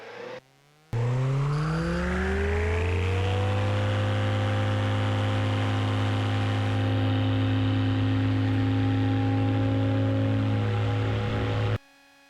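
Kitfox 7 STOLFox light aircraft engine roaring at full power through takeoff and climb on its first flight, a loud steady drone with rising pitch early on that levels into a constant heavy hum, close and continuous with no talk.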